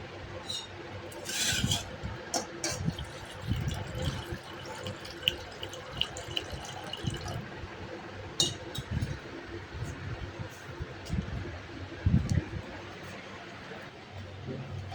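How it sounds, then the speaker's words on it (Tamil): Water pours and splashes into a vessel of milk for tea, with faint trickles and clinks at close range and a low background hum. "இப்போ தண்ணி வேணுன்றால ஊற்றிப்போம்."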